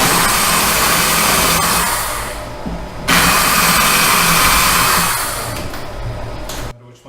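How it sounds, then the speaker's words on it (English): An M3 drill bit bores out holes in recycled e-waste parts for a budget 3D printer build, a loud steady whirring motor drone that runs nearly the whole time with a brief dip in the middle before cutting off. "So take your M3 drill out your holes again."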